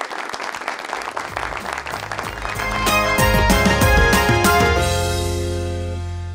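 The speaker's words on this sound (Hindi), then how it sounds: "ढेर सारी तालियां" A TV talk-show studio audience breaks into applause, a dense roar of clapping that swells as a music sting rises over it, then fades out under the music.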